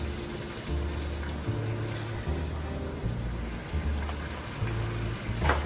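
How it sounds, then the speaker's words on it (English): Chardonnay poured into a hot pan to deglaze it while cooking shrimp scampi gives a steady, close, broadband sizzling hiss that runs the whole time, over a faint low hum. "I'm going to deglaze the pan."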